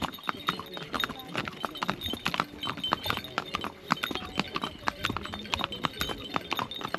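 Horse hooves clip-clop steadily during a family horse ride in Kanyam, Ilam, a close, even rhythm of sharp knocks that continues throughout, with people talking over it.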